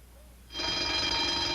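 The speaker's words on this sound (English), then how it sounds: "That's the burglar alarm." A burglar alarm bell in a store starts abruptly and rings continuously, a loud, steady metallic clatter with no voices.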